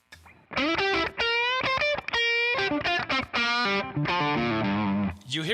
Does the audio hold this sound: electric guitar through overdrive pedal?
yes